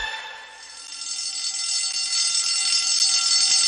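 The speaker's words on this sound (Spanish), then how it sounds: "Dan la alarma de que hay un incendio en el hotel" A hotel fire alarm rings as a steady, shrill electronic tone that holds throughout, rising slightly in loudness after a brief dip, with no voices present.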